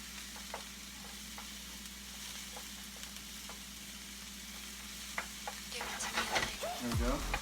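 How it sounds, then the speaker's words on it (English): Vegetables sautéing in butter for a macaroni dish with ground beef, a steady soft sizzle under the cooking, with clattering stirring and a louder burst of sizzle toward the end. "You can use butter if you want. And we're going to saute these."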